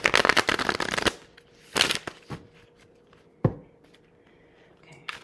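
A deck of oracle cards is shuffled close by in quick riffling bursts, then there is a pause and a few separate slaps and shuffles as the cards are handled, with a faint low hum underneath.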